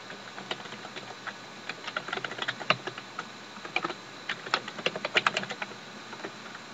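Rapid typing on a computer keyboard while entering an email address to set up a Tumblr blog; a steady run of close, crisp key clicks with uneven bursts and no talking.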